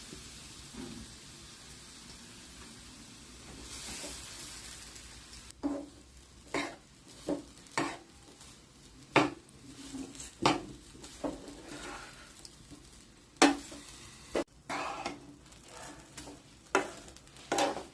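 Grated fresh coconut stirred in a hot pan with a spoon of ghee for coconut laddus: soft scraping and faint sizzle, with a run of distinct, rhythmic spatula knocks against the pan, close and moderate.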